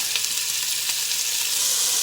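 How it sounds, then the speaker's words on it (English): Loud, constant sizzling of beef browning in a hot pot, a dense hiss with occasional crackles and no talking. "That sizzle is definitely loud"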